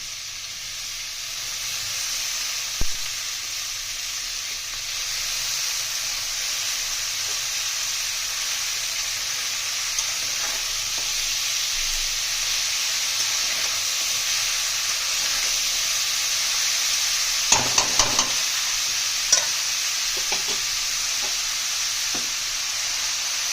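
Spice paste with tomato frying in a pan, a steady sizzling hiss running throughout with occasional soft clinks and scrapes of stirring, a few louder knocks near the end.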